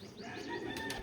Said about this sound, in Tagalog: Pinakita ko lang ang kulitan ng mga ibon ko ngayon.